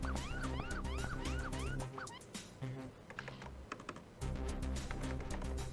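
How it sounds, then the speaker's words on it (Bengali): A police siren outside wails in several quick rising and falling sweeps for the first couple of seconds, then gives way to indoor sounds with music-like tones and keyboard tapping. "আচ্ছা বাইরে পুলিশের সাইরেন বাজছে"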